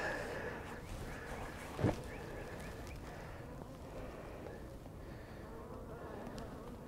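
A low, steady hum of many honey bees drones close up inside an open hive, with one brief knock partway through.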